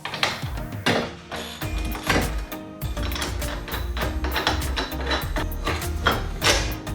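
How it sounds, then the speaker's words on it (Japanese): A metal nut being turned off a bolt to straighten damaged threads, producing loud, close, repetitive metallic clicking and grinding, with rhythmic ratchet-like strokes throughout. "ナットを外して少しネジ山を修正したいと思います。"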